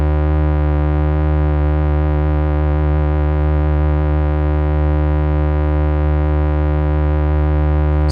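A Behringer 2600 synthesizer tone with vibrato holds a sustained, bright, buzzy note whose pitch wavers in a smooth, regular cycle, loud and close throughout with nothing else in the way.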